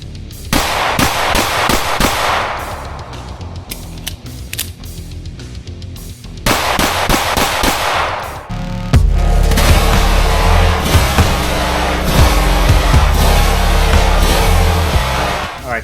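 Rapid strings of sharp, close gunshots from a Springfield Prodigy 2011 pistol, several quick bursts with short pauses between them, loud and echoing at an outdoor range.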